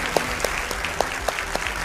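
Audience applause welcoming guests at the start of a televised Hindi political debate show, a steady wash of clapping with a few sharper claps standing out, moderately loud and close, with no voices over it.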